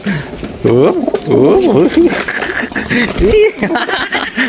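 Pigeons cooing repeatedly at close range with soft rising-and-falling calls, amid other bird sounds and some background voices.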